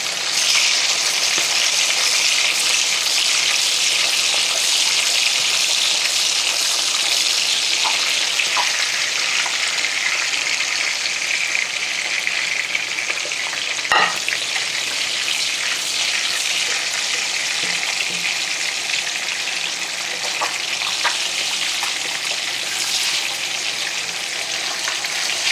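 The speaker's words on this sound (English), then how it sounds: "my grandma taught me how to splash grease over the top to cook the egg." Egg frying in hot grease in a pan, with the fat spooned or splashed over the top; a steady, close, dense sizzle and crackle runs throughout with no talking.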